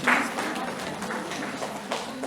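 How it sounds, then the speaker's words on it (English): An audience at a young engineers program claps, a steady wash of applause at moderate volume throughout. "A round of applause for yourself"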